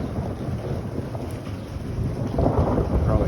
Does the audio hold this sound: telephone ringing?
no